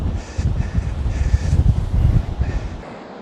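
Steady wind buffets the microphone in low rumbling gusts on the North Sea coast, loud and close, with no one speaking.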